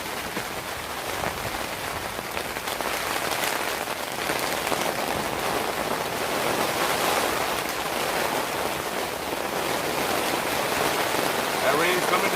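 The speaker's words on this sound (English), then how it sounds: "That rain's coming down now." Heavy rain drums steadily on a tent, a dense, even hiss of close raindrops that continues unbroken and grows slightly louder.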